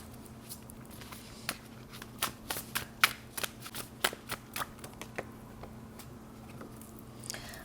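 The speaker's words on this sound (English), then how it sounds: "So I'm just going to shuffle these tarot cards right now" Tarot cards being shuffled by hand, a series of crisp riffling snaps in an uneven rhythm, close and fairly quiet over a steady low hum.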